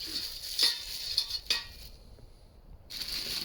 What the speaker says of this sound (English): The kettle goes over it.